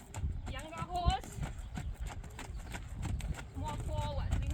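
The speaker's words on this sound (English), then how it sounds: "So rising trot, ride him more like a younger horse" Horse hooves clip-clop in a rising trot during a training session, a steady rhythmic beat at moderate distance with a brief snort or whinny-like sound and some background noise.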